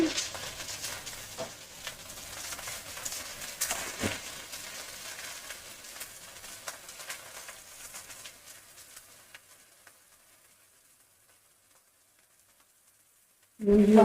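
Mixed vegetables with hilsa fish head, paneer and prawn sizzle in a pan with turmeric and salt while being stirred. A steady crackling fry fades to near silence, then ends in a sudden loud burst.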